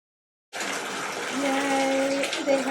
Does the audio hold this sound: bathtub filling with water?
yes